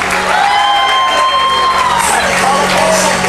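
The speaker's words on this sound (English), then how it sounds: "Let's give her a nice round of applause as well." Wedding guests in a tent at Look Park in Florence, Massachusetts, clap and cheer with whoops and shouts over a sustained crowd roar. A loud voice rings out above the noise.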